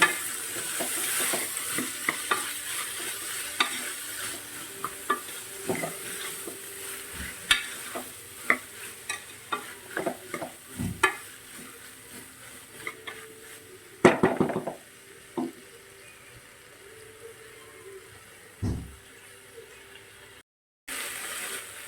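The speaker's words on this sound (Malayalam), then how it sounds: "ഗ്രീൻ പീസ് ഒന്ന് വഴറ്റി കൊടുത്താൽ" Green peas sautéed in a pan for a vegetable kurma give a soft, steady sizzle, broken by frequent sharp scrapes and clacks of a spoon stirring against the pan.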